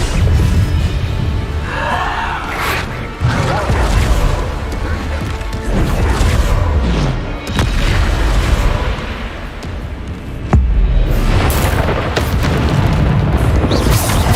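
Loud booming spell blasts from the Bombarda spell in the Hogwarts Legacy video game, several heavy crashing impacts and rumbles layered over dense game combat noise throughout.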